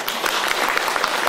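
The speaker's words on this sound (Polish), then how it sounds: "Wielkie brawa dla Pani Ireny Kiełtyki, przewodniczącej Koła Gospodyń." Applause from an audience at a rural Easter gathering in Poraj, honoring the head of the local women's circle; dense, steady clapping from a crowd, close and continuous throughout the short moment.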